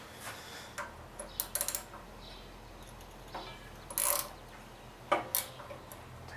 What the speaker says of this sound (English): we're going to get a wrench and we're going to take that bowl off